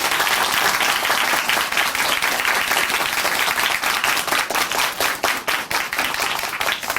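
A church broadcast audience gives warm applause for a woman who has just shared her testimony, a loud, full round of clapping that continues evenly for several seconds, with individual claps becoming more distinct as it thins.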